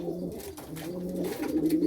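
A tumbler pigeon coos close by, its low, soft calls rolling in a couple of short phrases over a quiet background.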